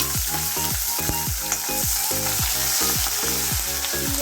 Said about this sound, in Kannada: ಇವಾಗ ಹಸಿಮೆಣಸಿಕಾಯಿ ಕಡ್ಬೇವು ಹಾಕ್ತಾ ಇದ್ದೀನಿ.